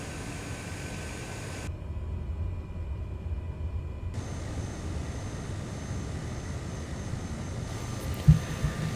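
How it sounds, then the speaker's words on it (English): Cabin drone of a Cessna Grand Caravan 208B in flight, a steady low engine rumble and broadband noise that persists throughout, with a brief soft thump near the end. "today we are back in the Cessna Grand Caravan, the 208B, one of my favorites."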